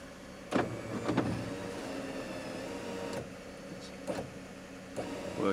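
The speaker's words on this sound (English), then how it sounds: "Got a nice sunroof as well." A steady electric sunroof motor whirs inside a Toyota Alphard for several seconds, broken by a few soft clunks and thumps.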